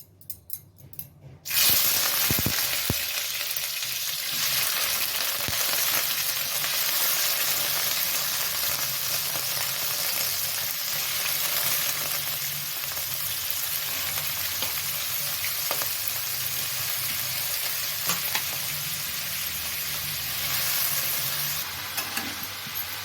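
Cucumber pieces frying in hot oil with mustard, bursting into a loud, dense sizzle after a brief quiet start and crackling steadily, with occasional stirring, for over twenty seconds.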